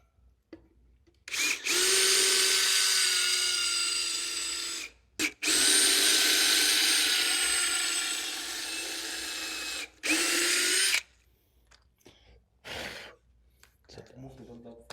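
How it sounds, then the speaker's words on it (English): A power drill pre-drilling holes in wood whirs in three bursts, two long and one short, with brief pauses between; quiet voices and small handling noises follow afterward. "I'm just going to pre-drill some holes."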